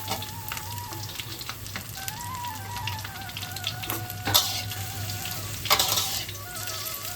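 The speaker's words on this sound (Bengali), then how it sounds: "এদিকে সবজিগুলো আমার খুব ভালোভাবে ভাজা হয়ে গেছে।" Green banana, potato, radish, papaya and drumstick pieces frying in hot oil give a soft, continuous sizzle, with occasional brief clatters and louder bursts from stirring in the pan.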